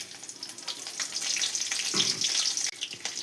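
Fenugreek seeds and curry leaves hit hot oil for a kuzhambu tempering, a loud continuous crackling sizzle with sputtering bursts and a brief stir, close and with no one speaking.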